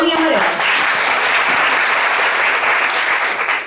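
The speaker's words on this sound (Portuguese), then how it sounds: "Eu vou pedir para vocês aplaudirem a bolinha amarela." A lecture audience bursts into loud, dense applause that holds steady for several seconds before tapering off, with a voice briefly heard at the start.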